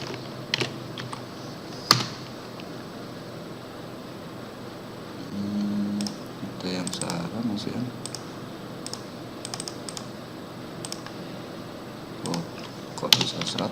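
Typing on a computer keyboard while configuring a VLAN with MikroTik and Cisco gear; scattered, faint key clicks and a few sharper taps over quiet room tone, with brief speech.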